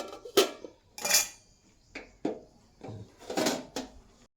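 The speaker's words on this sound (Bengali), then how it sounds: "এবার চালটা হাঁড়ির মধ্যে দিয়ে ভালো করে নাড়িয়ে এবার চাপা দিয়ে দিচ্ছি" Rice is stirred in a metal cooking pot for khichuri, giving several sharp scraping clanks of a spoon against the pot, followed by the rattle and clack of a lid set on top, close and uneven in rhythm.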